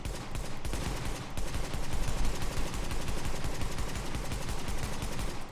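An MK16 assault rifle in The Division fires in rapid, steady automatic shots for several seconds, each report loud and close with no pause between them.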